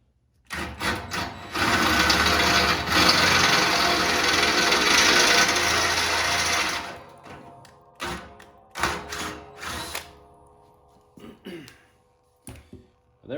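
A power drill boring holes through the steel of a John Deere 54-inch quick hitch blade extension, a loud steady grinding whine lasting several seconds, followed by scattered clanks and handling noises.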